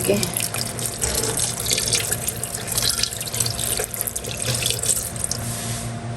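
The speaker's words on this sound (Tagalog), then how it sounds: "Lalagyan na rin po natin ng tubig." Water runs steadily from a tap into a pot, a continuous splashing stream lasting several seconds with a faint low hum beneath.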